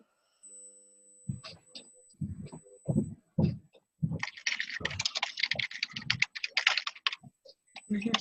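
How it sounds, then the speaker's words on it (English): Someone types on a computer keyboard during a team meeting call, a quick, irregular run of close, crisp keystrokes with a steady faint whine in the background. "I hear somebody typing."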